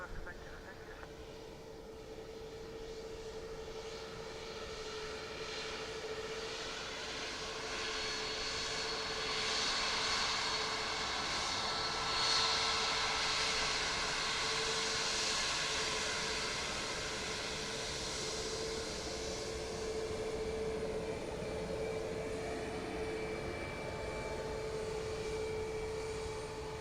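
A Ryanair jet airliner approaches to land at Dublin Airport, its engines producing a steady broad roar with a constant whine that swells gradually, under radio talk between air traffic control and the pilots.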